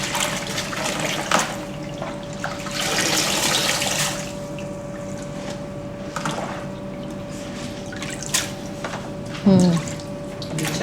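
Vegetables swished and rinsed by hand in a large bowl of water, with continuous sloshing and splashing plus occasional drips and clinks in a kitchen, close and fairly loud, with no talking.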